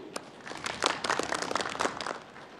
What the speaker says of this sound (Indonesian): Tepuk tangan untuk bagian itu.